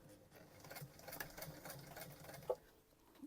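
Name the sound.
sewing machine stitching a Christmas stocking seam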